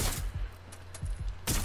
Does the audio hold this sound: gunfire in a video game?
yes